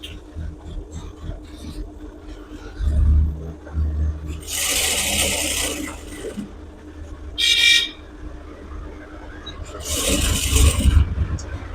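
A sewing machine stitches elastic onto ladies' pants in three separate whirring runs, the first and last longer and the middle one brief, with quiet pauses and some low talk between them.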